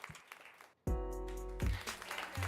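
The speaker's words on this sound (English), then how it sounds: "Please give yourselves and your team members a big round of applause." Applause sound effect from the office dating sim game Office Crush Dating Simulator, a dense burst of clapping that rises abruptly after a brief quiet gap and holds steady under a low tonal hum.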